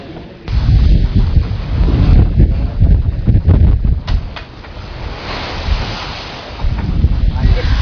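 Sea waves slap and churn on the open Java Sea while strong wind roars across the microphone, a loud, continuous wash heard from on the water, with faint voices underneath at times.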